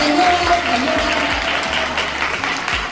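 A school audience at a Sanskrit quiz applauds the winning group with a steady, loud, dense burst of clapping that carries evenly to the end, a few voices faintly audible underneath.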